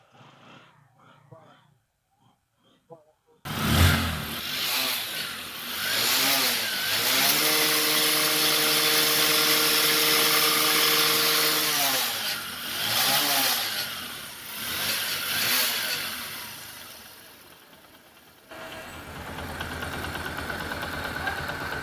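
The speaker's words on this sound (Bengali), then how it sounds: "আমি এখন হচ্ছে বাইকটা স্টার্ট করে সাউন্ডটা আপনাদেরকে শুনে দেখুন যে সাউন্ডটা কিরকম হয়েছে" A tuned Bajaj Platina motorcycle engine kicks into life after a few quiet clicks, then runs close and steady with a few revs before settling to a lower idle.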